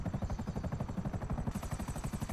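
An attack helicopter in GTA V Online gives a rapid, even rotor chop, loud and close, with continuous rhythmic thumping throughout.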